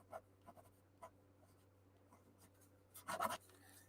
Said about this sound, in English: So I can just write 2017.